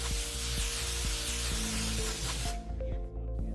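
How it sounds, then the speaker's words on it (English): Grease sprayed from an aerosol can onto the spring duct of a sectional garage door during installation, a steady close hiss over a low hum that cuts off near the end. "spray the spring duct with some grease."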